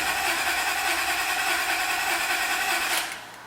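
A Honda Accord engine cranks with its injectors disabled and a slight miss, a loud whirring starter drone that runs steadily and then cuts off at the end.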